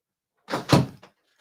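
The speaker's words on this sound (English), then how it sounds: "let me close this door" An interior door swinging shut, with a close, fairly loud thud and latch sound followed by a brief, softer knock, then quiet.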